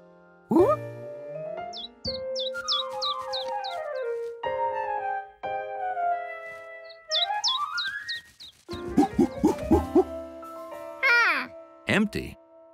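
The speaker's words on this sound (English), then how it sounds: "he woke up to the sound of happy birds" Cartoon birds chirp in the morning at a farm, giving bursts of quick, high, whistled tweets among other sweeping cartoon tones.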